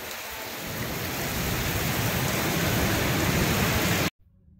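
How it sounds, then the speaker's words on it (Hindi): Heavy rain pours steadily outdoors at a resort during a storm, a loud dense broadband hiss that builds slightly before cutting off abruptly near the end. "थोड़ी देर बहुत तेज बारिश हो रहा है।"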